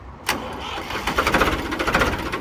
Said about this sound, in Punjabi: ਲੈ ਬਾਈ ਟਰੈਕਟਰ ਦੀ ਆਵਾਜ਼ ਚੈੱਕ ਕਰੋ